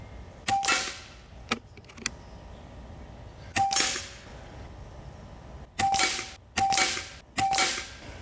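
A Hatsan Flash Wood air rifle fires several sharp, close shots, each a crisp crack with a brief metallic ring, spaced irregularly with a few fainter clicks between them.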